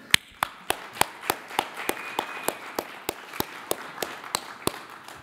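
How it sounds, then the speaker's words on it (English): An audience at the close of a 3D storytelling event in 2012 claps, but only as a sparse, steady run of single sharp claps, about three or four per second, with no full round of applause. "So thank you all, and please applaud yourselves."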